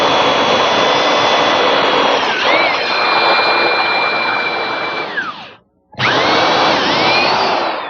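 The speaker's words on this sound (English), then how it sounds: "We have a drill bit and 2 extensions to make it long enough to reach from the seat up to the crest rail" A power drill with a long bit on two extensions bores through a Windsor chair seat toward the crest rail, whining loudly and continuously, cutting out briefly, then spinning back up.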